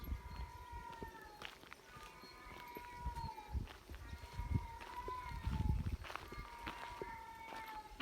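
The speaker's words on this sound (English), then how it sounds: "It's not a baby's cry, that's a cat." A cat cries out repeatedly in a quiet Bulgarian village, several drawn-out wavering meows at moderate distance. Rustling and soft footsteps sit underneath.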